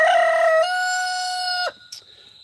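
A rooster crows once nearby, a loud drawn-out call of about two seconds that breaks off sharply, followed by a brief faint chirp.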